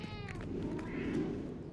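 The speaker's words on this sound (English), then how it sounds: "There's her pet cat." Pet cat in a video game meowing once, a short, clear, close meow lasting under two seconds.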